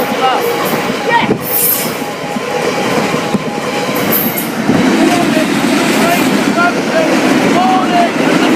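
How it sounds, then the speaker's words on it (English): A train passing the Hykeham station level crossing in Lincolnshire, loud and close, with rumbling wheels, clicking over rail joints and squealing wheel tones, under a continuous broadband roar. "Warning! The train is approaching!"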